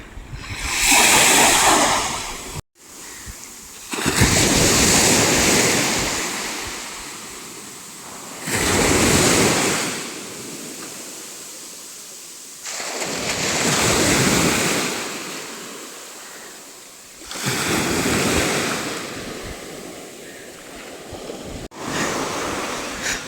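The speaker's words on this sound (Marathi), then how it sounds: "एकदम असा निळाशार समुद्र आहे." Sea waves roll in at a hidden beach in Guhagar, swelling and fading in slow repeated surges about every five seconds, with wind buffeting the microphone and no voices.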